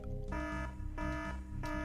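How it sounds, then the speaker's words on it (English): A looping electronic alarm blares in the stealth game Trilby: The Art of Theft, a steady loud tonal wail with pulsing sections that restart every few tenths of a second. "how did you set an alarm off?"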